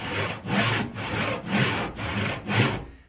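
Hand saw cutting through salvaged wood, about six even rhythmic strokes of loud close rasping, each stroke rising and falling, with no talking.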